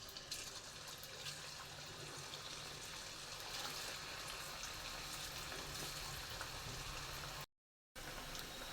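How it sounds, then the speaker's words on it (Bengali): Comb-shaped pitha cakes (chiruni pitha) frying in oil in a wok, a dense, even sizzle close by that runs steadily, broken only by a short silent gap near the end. "তেল দিয়ে দিচ্ছি কড়াইয়ে, এখন পিঠাগুলো দিয়ে দিচ্ছি"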